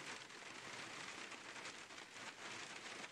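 Rain falls steadily in a hunting video game, a soft, even patter of drops on surfaces, faint and continuous with no other sounds.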